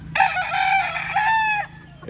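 A rooster belongs to a flock of breeding chickens, and it crows once, loud and close, in a single drawn-out call lasting over a second, with a low steady hum underneath.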